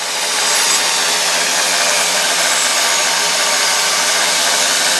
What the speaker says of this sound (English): now I can turn it on and I can grind down the edges of my pieces of metal